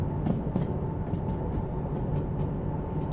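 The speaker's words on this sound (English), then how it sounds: "Just hear a little bit of wheel slip." Locomotive wheels slipping on the rails in the Derail Valley train game, heard as a continuous low rumbling rail roar with faint rhythmic clacks and no voices.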